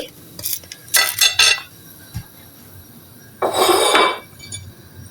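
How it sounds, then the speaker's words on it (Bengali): Pieces of fried eggplant, cooked with salt, chili and oil for a Bengali begun bhaji, are lifted from a frying pan: close metallic scrapes and clinks of a utensil come in short bursts, with one longer scraping rattle near the end. "আমি এখন বেগুনগুলি উঠিয়ে নিচ্ছি"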